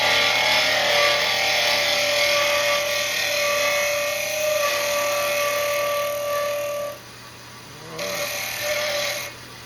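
A power tool whirs steadily while smoothing the stepped inside of a hand-carved piece, a loud continuous grind that drops out near the end and briefly restarts.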